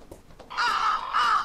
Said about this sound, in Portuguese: Um bando de corvos está ansiosamente comendo algo.